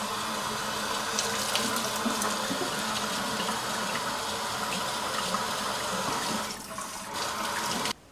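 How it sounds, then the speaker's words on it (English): Hot tap water runs steadily into a sink as stones and crystals are rinsed. The flow is close and continuous, with a constant splashing hiss and no talking, and it thins slightly near the end. "Now I'm going to turn the water on to mostly hot enough to clean the germs, the dust, the stagnation off the stones"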